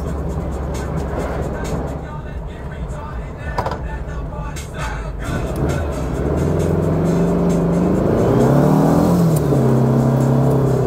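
A car engine revs hard and climbs in pitch over a slipping clutch, whirring and straining at high RPM without pulling away, loud and close.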